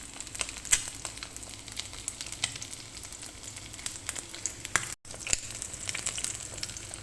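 Browned onions in a pan with an extra spoon of oil sizzle steadily and up close while they are sautéed. Faint stirring clicks come through now and then, and a brief dropout interrupts the sound near the end.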